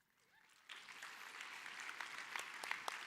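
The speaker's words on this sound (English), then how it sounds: "Yeah, I deserve the clap." Audience applause at a company general session in a large room, starting faint and jumping abruptly into sustained, fairly distant clapping that continues to the end with scattered sharper claps.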